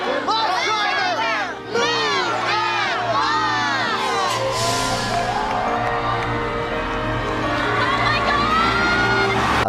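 A big crowd shouting and cheering at the reveal of a new home on Extreme Makeover: Home Edition, with loud whoops and children's excited shrieks sustained throughout, close and continuous.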